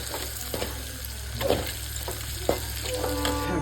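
Pork fries in hot oil with a steady sizzle, broken by a few louder crackles and stirring scrapes now and then.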